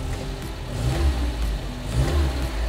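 A 1999 Suzuki Carry Futura's engine running, a steady mid-pitched hum with low rumble that swells slightly in gentle rev surges, heard close and fairly loud with no talking.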